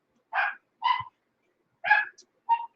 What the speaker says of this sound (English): That dog is annoying.